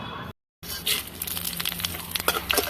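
Bay leaves, dried red chillies, whole cumin, cardamom, cinnamon and cloves crackle and sizzle in hot oil, a steady close spattering hiss with sharp pops, after a brief silent gap.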